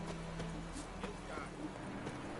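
Horse hooves clip-clopping in The Witcher 3: Wild Hunt video game, a faint, steady trot of rhythmic thuds under game ambience and a voice.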